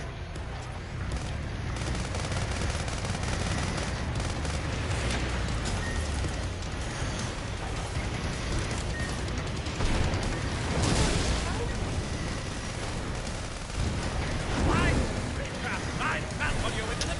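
Gunfire and blasts rumble through a Sand Land video game battle, a dense, continuous wash of shooting and explosions with heavier bursts near the middle and end, and voices talking over it.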